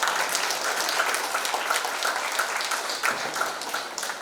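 A hall audience at a motivational session breaks into sustained applause, many hands clapping in a thick continuous patter that stays loud and even across the moment.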